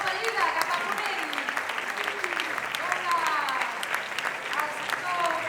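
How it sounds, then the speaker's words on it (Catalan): An audience at the VI Premis Carné cultural awards breaks into sustained applause for Lleida, a dense, loud wash of many hands clapping, with a few voices cheering briefly over it. "Un aplaudiment, doncs, cap a Lleida, cap a Ponent!"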